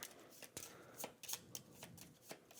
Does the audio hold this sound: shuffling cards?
yes